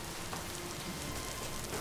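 Rain falls at night in a steady, soft, even patter on surfaces, continuous and moderately near, with no talk over it.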